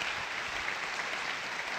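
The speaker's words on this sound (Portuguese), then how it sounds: "Dá uma salva de palmas para a minha esposa" Steady applause from a church audience, dense and continuous clapping throughout the short span with no voices above it.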